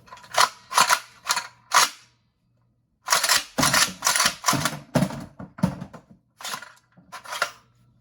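The Breacher prototype toy blaster fires shells in two bursts, sharp snappy cracks with clicky mechanical action, close and loud, a short run of shots, a pause, then a longer string of rapid reports.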